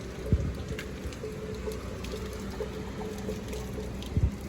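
Brief rain shower in a rural outdoor setting, a faint steady patter of drops with a few louder splashes, no talking.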